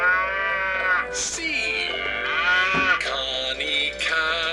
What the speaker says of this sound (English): Connie cow, Connie cow